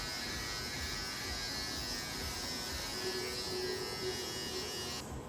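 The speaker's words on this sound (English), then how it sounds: "So usually I'll do a little like stubble, so I'll use a little electric trimmer." A small electric stubble trimmer buzzes steadily and close up, a constant high-pitched whirring drone that barely varies in loudness over several seconds, with no speech.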